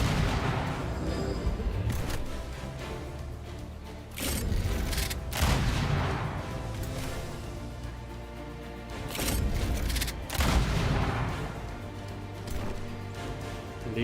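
Sustained heavy gunfire from gun units in Age of Wonders 4 fighting a battle with fire giant and duergar forces: dense volleys and booming bursts rolling continuously, with loud peaks recurring every few seconds.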